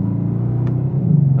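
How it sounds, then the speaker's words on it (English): From inside a Bentley Continental GT Black Edition, a deep, steady engine and exhaust rumble carries on, swelling slightly toward the end, with no talking. "It's the nicest sounding engine, the nicest sounding exhaust."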